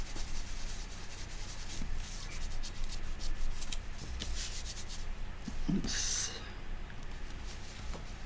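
Paper being rubbed over a handmade vintage notebook, a steady scratchy friction running throughout at close range, with one brighter burst near the end.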